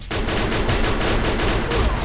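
Rapid, dense gunfire from the mobile battle-royale game Free Fire, a sustained burst of overlapping shots that stays loud and close for about two seconds with no talking.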